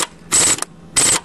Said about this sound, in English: use the air tool to slam it back on so it won't loosen